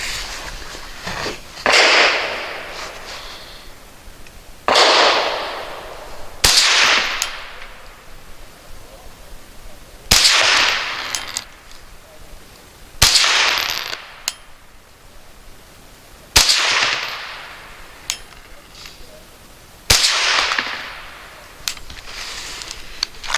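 A Thompson Center TCR22 rifle fires Aguila Super Maximum 30 grain rounds, about eight sharp, loud cracks spaced a few seconds apart, each followed by a short ringing decay.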